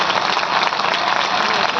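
Dense, steady audience applause fills a hall at a Hindu gathering in Pratapgarh, many hands clapping together in a continuous loud roar throughout.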